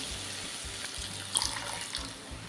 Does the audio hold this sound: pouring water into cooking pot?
yes